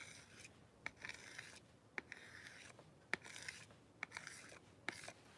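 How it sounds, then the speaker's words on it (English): Scraping leftover scrapbooking material off a surface back into a jar, with repeated short sharp scrapes and rubbing strokes, close and quiet, no talk. "I'm just going to scrape all of that back into my jar."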